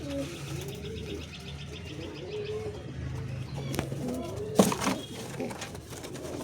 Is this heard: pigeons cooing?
yes